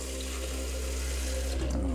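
Water runs steadily from a kitchen tap in a continuous, close rushing stream, filling or rinsing near a coffee machine.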